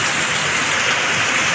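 Heavy rain pours outside a village shop, a dense, steady hiss of water close by with no breaks.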